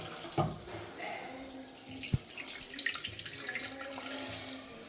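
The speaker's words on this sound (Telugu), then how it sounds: "కొంచెం నార్మల్ వాటర్ పోయాలి ఇందులో" Plain water is poured into a bowl of soaked chana dal, a faint steady splashing with a sharp clink near the middle.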